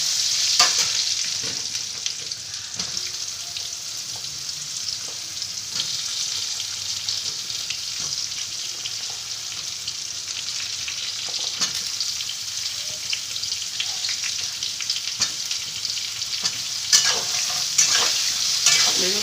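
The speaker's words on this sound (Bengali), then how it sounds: "এবার আমি বেগুনগুলোকে ভালো করে আমি ভেজে নেব" Eggplant pieces frying in a pan with salt and turmeric give a continuous close hiss and crackle. Faint stirring clicks sit over the steady sizzle throughout.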